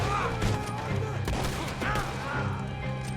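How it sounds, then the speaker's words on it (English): Shotgun blasts in Red Dead Redemption 2 ring out amid a busy gunfight, several sharp reports over constant game noise and music, with a voice talking throughout. "It's my first time using this shotgun."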